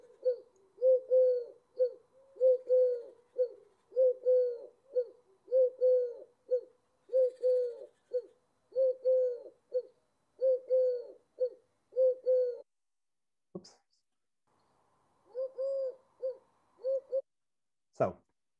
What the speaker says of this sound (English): So that's the sound of the collared dove,